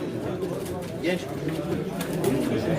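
Fancy breed pigeons cooing softly nearby, low murmuring calls repeated over a background of other bird sounds.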